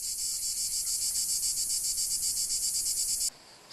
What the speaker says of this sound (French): les cigales sont là